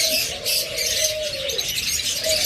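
Pet birds chirp at a bird dealer's stall offering lovebirds, budgerigars and an American yellow pair, with a steady wash of bright tweeting and one clearer whistled call weaving through it, moderately near.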